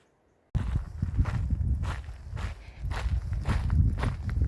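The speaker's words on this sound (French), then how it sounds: "À part le bruit des pas, bien entendu" Steady footsteps crunch along the Pacific Crest Trail at a walking pace, close and clear, after a brief silent start.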